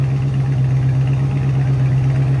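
A straight-piped 6.4L HEMI V8 in an AWD Chrysler 300 idling, a loud, steady low rumble with an even throb and no revs, close up and alone.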